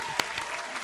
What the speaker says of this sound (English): Clap it up for me, goddammit.